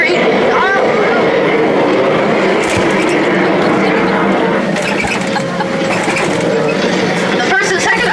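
Universal Studios backlot tour tram rattling and clattering across a rickety bridge, a steady close mechanical rumble with rail-like clicking, under a voice talking throughout.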